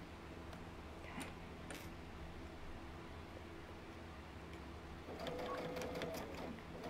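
A sewing machine stitches through the thick seams of a puff quilt, a steady low mechanical whir running the whole time at moderate level, with a few faint clicks and a brief higher whine near the end.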